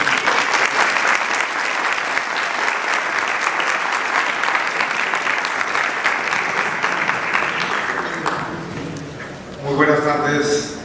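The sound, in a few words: audience applause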